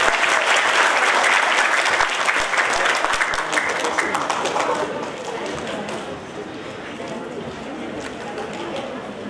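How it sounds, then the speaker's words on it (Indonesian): Lively applause from an audience at a graduation ceremony for students of an Islamic boarding school in Makassar, dense clapping sustained for several seconds and then gradually thinning out and softening. "Boleh kita berikan aplaus yang meriah?"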